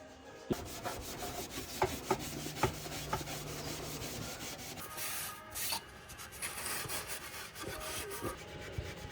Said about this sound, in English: Now it's time for just a little quick scuff down here with some Scotch-Brite to get the surface prepped for our next step.